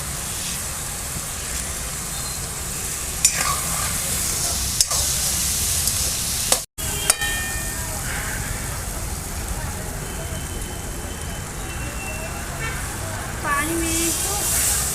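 A cluster bean and potato curry is tempered in a village kitchen, giving a continuous, even sizzling hiss throughout with a few brief knocks and clicks of utensils.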